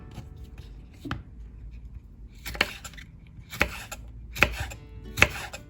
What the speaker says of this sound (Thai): หั่นเล็กๆนะคะ จะเอาลายไหนก็ได้